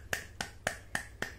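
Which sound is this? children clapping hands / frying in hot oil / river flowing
children clapping hands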